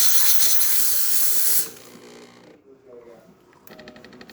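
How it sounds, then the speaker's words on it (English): A loud, steady steam hiss from a DeLonghi espresso machine steam wand blasts for about a second and a half, then cuts off, leaving quieter hissing and faint sputtering. "steamer really fast to activate. Excellent pressure as well. Look at that beautiful steam coming"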